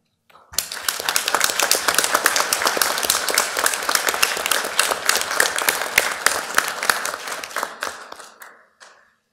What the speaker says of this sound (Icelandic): ég held við bara aðeins að klappa fyrir samningnum